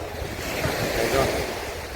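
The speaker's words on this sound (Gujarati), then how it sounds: "દરિયો ઘૂઘવાતો" Surf rumbling and washing onto the beach at Mandvi, Gujarat, nearby, mixed with gusty wind buffeting the microphone.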